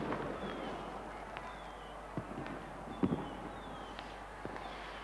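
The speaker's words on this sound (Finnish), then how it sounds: "Nämä ilotulitusraketit muodostavat kukka-asetelmia, jotka ovat 250 metriä korkeita" Millennium fireworks display over Helsinki: faint, distant pops and thumps scattered irregularly over a steady background hiss, with a few sharper cracks standing out.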